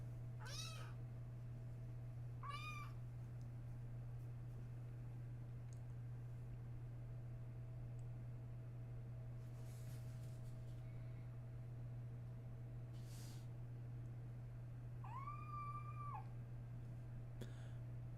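A young cat gives several short, rising meows, spaced apart and fairly faint, over a constant low electrical hum.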